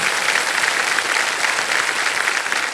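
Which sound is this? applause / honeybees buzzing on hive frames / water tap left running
applause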